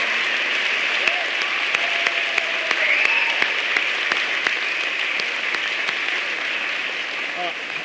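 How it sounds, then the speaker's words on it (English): A town hall audience in Ohio applauds Governor Ted Strickland with sustained, even clapping throughout, a few sharper claps and faint cheering standing out from the broad wash. "Please give him a round of applause."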